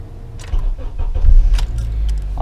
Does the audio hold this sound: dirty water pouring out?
no